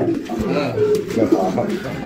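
Pigeons coo at a busy pigeon market, low throaty calls blending into a dense background murmur, heard close under someone speaking.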